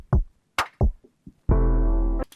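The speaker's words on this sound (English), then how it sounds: "I add this cinematic transition right here" Cinematic transition effect from the Splice sample library in a hip-hop mix: a few sparse knocks and hits, then a loud sustained swelling tone that cuts off sharply.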